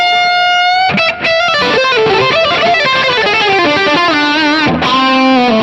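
An electric guitar played through an 808 overdrive pedal rings out loud and close in sustained, harmonically rich distorted notes and a melodic run, with a brief pause near the start and no speech.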